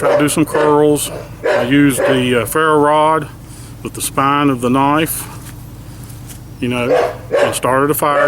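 A dog barks repeatedly nearby at an outdoor bushcraft campsite, its barks mixed in with and partly under someone talking throughout.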